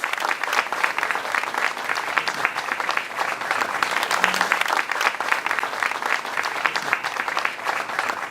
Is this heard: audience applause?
yes